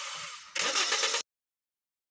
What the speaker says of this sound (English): you might be cranking the ignition over and over but not going anywhere